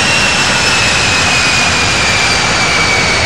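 Jet engines of a Japan Airlines 747 in the Infinite Flight game give a loud, steady roar with a broad rushing hiss and a thin high whine. The sound stays continuous and unbroken, with no talking.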